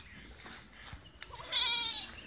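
Wool sheep and goats on a farm, a single wavering bleat rising near the end after some faint rustling and thumps.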